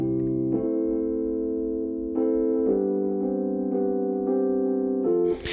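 Rhodes electric piano chords through a Vox Echo Chorus effect, with a swirling echo and chorus shimmer, several sustained changes ringing on alone, no voices.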